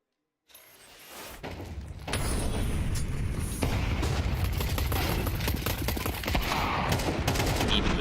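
Pistol gunfire in a Counter-Strike match on Inferno, rapid overlapping cracks and mechanical clicks building into a dense volley after a quiet start, loud and continuous.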